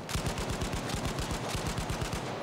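Automatic gunfire in the video game Battlefield V rattles in a fast, steady burst of rapid shots, loud and continuous throughout, with no talking over it.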